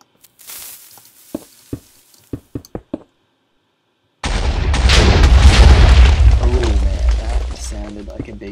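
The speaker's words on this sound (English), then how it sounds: "Like a big explosion." A Minecraft TNT block detonates in a single-layer test world. Sharp clicks and a pause give way to a sudden, loud, roaring blast that crackles and rumbles for several seconds.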